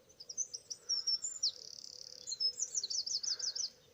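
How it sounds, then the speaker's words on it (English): A dawn chorus in Essex with a robin among the singers: high, thin, warbling bird phrases and rapid trills ring out over a steady low hum and faint background calls. "There's a robin too. Lots of wood pigeons, of course, helping to magnify the dawn chorus."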